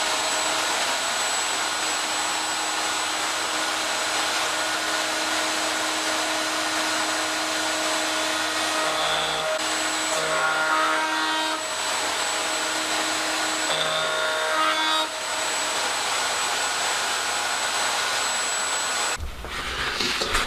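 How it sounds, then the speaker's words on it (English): A wood router mounted on a router table whines loudly and steadily as it trims the edges off a workpiece, with short changes in pitch as the cut loads, before it spins down near the end. "just get this on the router table and get these edges routed off"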